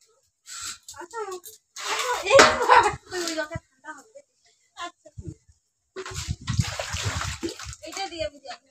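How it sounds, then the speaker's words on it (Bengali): Water poured from buckets over a Shiva idol during a worship ritual, splashing in bursts between people talking nearby, with a short quiet gap before a final heavy pour. "মা তোমরা জল ঢালো, ঢালো তোমরা।"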